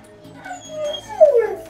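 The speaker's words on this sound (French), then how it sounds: "les chiens qui hurlent à la mort, c'est normal" Dogs let out a short, wavering howl that rises and falls, fairly close and alone, ending in a brief louder whimpering cry.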